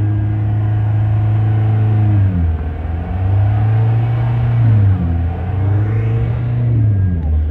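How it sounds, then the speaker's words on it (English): A Caterham sports car idles and revs close by in a race paddock, its steady engine note dipping and rising with a few throttle blips over roughly seven seconds. "Another Caterham, this is a nice one."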